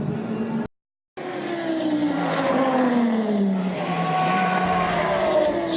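Race cars at the 2016 12 Hours of Sebring, on a Florida airfield circuit: loud engines wail past with falling pitch, one after another, broken by a brief silent cut.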